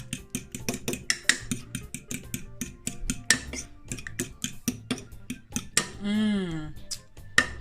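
Fried chicken wings are tossed in sweet Thai sauce, giving a string of light, quick clinks and taps of a utensil against a dish, with a person briefly speaking near the end.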